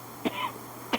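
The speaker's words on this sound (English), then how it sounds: "Coughing up something?" A person coughs twice, short and fairly quiet, the two dry bursts spaced well apart in a hushed indoor room.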